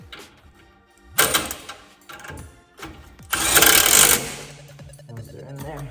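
An impact wrench tightens brake bolts on a Gen 2 Ford Raptor pickup during a DIY brake job, giving two short rattling, buzzing bursts, the second longer and louder, with faint knocks of handling between them.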